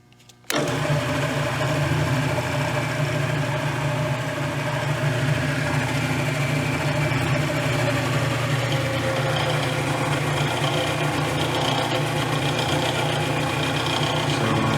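Motor of a Delta 15-inch bench top drill press, model 15-350, running at its slowest spindle speed of about 450 RPM, switching on abruptly and then holding a steady, even hum with no talking.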